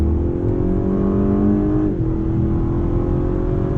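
A 2019 Lexus LS500 F-Sport sedan pulls hard on throttle, its steady engine drone building loud and close throughout, with a brief dip in tone near the middle as traction control intervenes.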